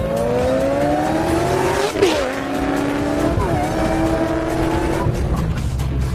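A powerful V8 engine in a 700 hp Ford Mustang GT500 roars close by, revving up repeatedly with rising pitch, the throaty rumble shifting between gears.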